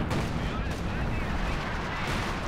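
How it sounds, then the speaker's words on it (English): In a Company of Heroes 2 match, an ML-20 artillery barrage pounds with deep, rumbling blasts that overlap into a dense, continuous roar, while a commentator talks over it. "a rather deep ML-20 barrage coming through"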